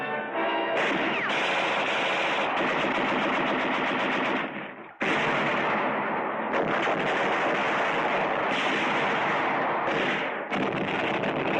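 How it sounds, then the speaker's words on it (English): Sustained machine gun fire from WWII Pacific battle footage, dense rapid bursts hammering almost without pause, with one brief break near the middle before the loud clatter resumes. "After thousands of rounds of machine gun,"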